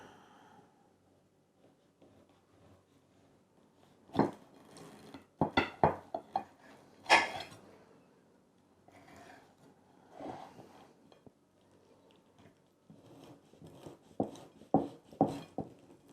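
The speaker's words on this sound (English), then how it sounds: "Pastry is lovely and crisp, as you can hear." A knife crunches through crisp pumpkin pie pastry in a pie dish, with clusters of sharp crackling cuts and scrapes against the plate separated by quieter pauses.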